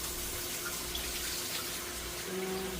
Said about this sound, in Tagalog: Banlawan muna natin tong ampalaya